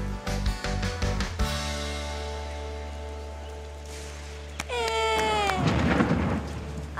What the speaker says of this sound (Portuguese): A chuva voltou.